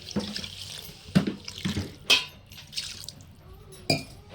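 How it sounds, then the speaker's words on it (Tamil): Water splashes and pours into a pot of crab rasam in uneven bursts, with clinks of metal in a quiet kitchen. "நம்ம கொஞ்சம் தண்ணி ஊற்றிக்கலாம்."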